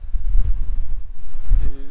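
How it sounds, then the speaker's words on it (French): Strong gusty wind blows on a sandy shore, low rumbling buffets battering the microphone in uneven bursts, with a faint tonal sound near the end. "Il y a tellement de vent"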